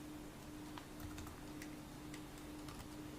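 Faint keystrokes on a computer keyboard, a few scattered clicks spread across a few seconds over a steady low hum, with no talking.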